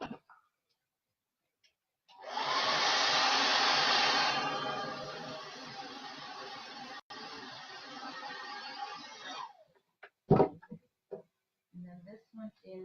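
Hair dryer drying chalk paste on a craft project runs as a steady whooshing blast, loudest at first and then slightly softer, for about seven seconds. It cuts off before a few soft clicks and brief talk.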